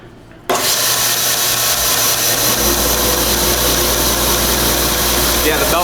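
A belt sander fitted with a knife-making belt starts abruptly and runs at a loud, steady roar with a rough grinding rasp, close by and continuous.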